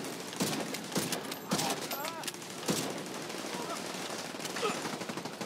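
Automated turret in Tom Clancy's The Division 2 firing in short repeated bursts, sharp cracks every second or so over a busy game soundscape, with a voice talking at points.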